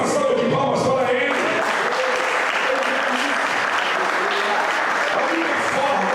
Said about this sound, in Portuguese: e dê uma salva de palmas para Ele.